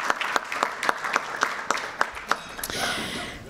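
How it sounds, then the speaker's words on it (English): An audience at a candidates' forum applauds elected officials for their public service, with steady rhythmic group clapping that swells into a denser wash near the end. "Could we applaud them?"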